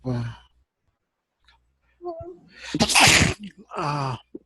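A sharp, loud sneeze bursts out mid-clip, preceded by a brief voice and followed by a short spoken reply.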